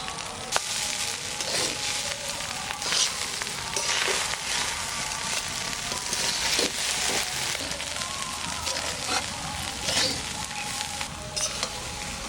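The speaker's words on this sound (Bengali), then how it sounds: "ভালো করে নেড়ে চেড়ে নেব।" Lemon rice and salt are stirred in a hot pan, giving a dense, steady sizzle like rain. Repeated scraping strokes of a spatula sound close by throughout, with no voices.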